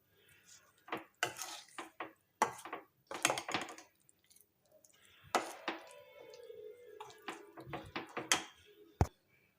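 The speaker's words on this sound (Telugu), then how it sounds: "ఈ పోపులో మొత్తం కలిసేలాగా ఈ పచ్చడి బాగా కలిపేసుకోవాలి" Tomato and red chili chutney is stirred in a pan, giving intermittent clinks, scrapes and knocks of a utensil against metal in short bursts with quiet gaps, close by.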